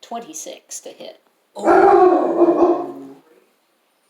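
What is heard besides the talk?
dog howling in the background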